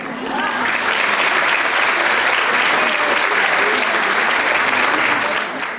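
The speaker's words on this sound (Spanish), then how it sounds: "Gracias por los aplausos." A loud, full round of applause from a seated audience at a talk fills the room, many hands clapping densely with some crowd murmur, swelling in quickly and tapering slightly at the end.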